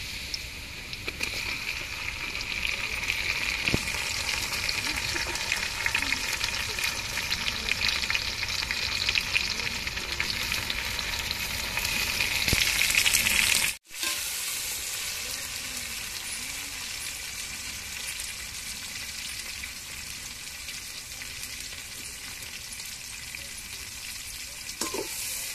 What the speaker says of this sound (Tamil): இப்ப தக்காளியை சேர்த்துக்கிறோம்.